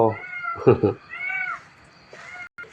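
A pet cat named JD meows loudly several times in the evening, with drawn-out, wavering cries and a couple of short sharp calls, close by and with no talk.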